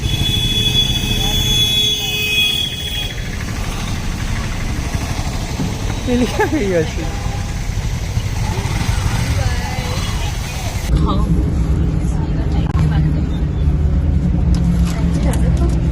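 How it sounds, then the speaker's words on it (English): A bus engine drones steadily from inside the moving vehicle, a low continuous rumble that fills the whole stretch, with faint voices mixed in. "So we are finally in the bus"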